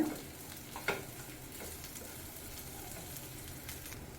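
Onions sautéing with a crushed mix of coriander, cumin and garlic for an ivy gourd fry, making a soft, steady low sizzle with occasional scrapes of stirring and one clearer tap.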